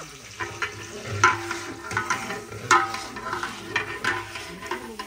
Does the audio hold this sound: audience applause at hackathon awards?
no